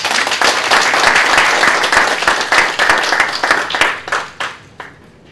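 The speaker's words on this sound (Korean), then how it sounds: "큰 박수로 부탁드립니다." Loud audience applause welcoming a history professor at a lecture event, a strong burst of many hands with distinct sharp claps that fades out to a few stragglers and silence.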